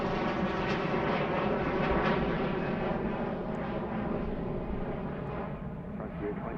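An airliner powers up for takeoff from runway 9 left at Philadelphia airport, a steady, loud broadband jet roar filling the whole stretch with little change in level, with a faint radio voice under it.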